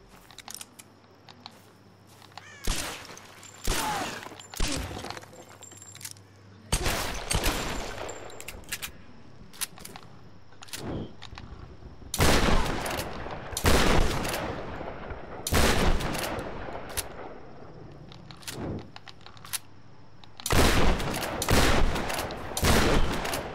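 Tomb Raider video game gunfire in several separate loud bursts of rapid shots, spaced apart with quieter pauses between them.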